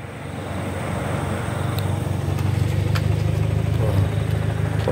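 A car drives fast along a road, heard as a steady engine drone and road rumble that grows slightly louder and stays continuous throughout, with no clear talking.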